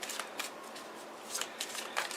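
Tarot cards being shuffled, a series of quick riffling bursts repeating at an irregular rhythm, close and fairly soft, with no voice over them.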